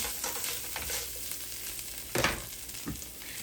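Peppers and onions fry in a pan for a fish fry dinner with fried potatoes, giving a steady close sizzle with a few louder scraping stirs near the end; no one talks.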